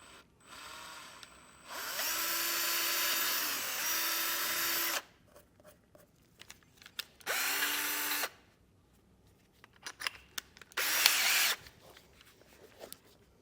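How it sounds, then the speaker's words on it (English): A power drill with 1/8 and 3/8 inch bits drills holes in plastic while a Redarc brake controller is installed: three separate bursts of high whine, the first longest, with quiet handling sounds between. "So we'll just carefully get these drilled out here."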